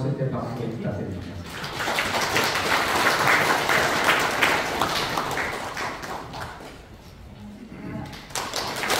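An audience claps steadily for a committee chairman coming up at a Pocheon community welfare council evaluation and awards meeting, a dense sustained patter that builds and then fades toward the end.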